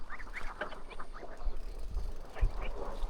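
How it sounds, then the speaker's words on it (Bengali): Many ducks swimming on a village pond quack in quick overlapping bursts, fairly close and continuous over outdoor background noise. "এখানে আমরা যদি দেখি যে অনেকগুলো হাঁস সাঁতরাচ্ছে পুকুরে"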